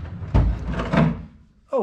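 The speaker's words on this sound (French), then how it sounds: "Un deuxième tiroir." A drawer sliding open in a pirate-themed hotel room at an amusement park, heard as a short wooden thump and scrape near the start and another brief knock near the end, close by, with a voice briefly audible.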